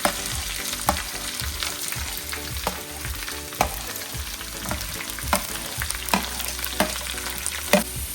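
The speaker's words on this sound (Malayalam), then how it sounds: "കൊച്ചുള്ളി സവാള ഇതിലോട്ട് ചേർത്ത് കൊടുക്കാം" Shallots and onion frying in a pan for a homemade turkey curry, with a continuous sizzle broken by regular scraping and knocking as a spoon stirs, close and fairly loud, and no voices.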